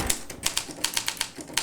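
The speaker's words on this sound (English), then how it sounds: "with a typewriter you click a button, you have the whole mechanism of the hammers coming up" Typewriter keys striking in an irregular run of about a dozen crisp, close mechanical clacks as the hammers snap up against the platen, with no voices.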